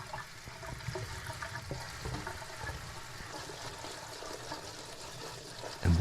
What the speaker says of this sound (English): We have these multicolored little cherry tomatoes. I'm going to give them a quick rinse.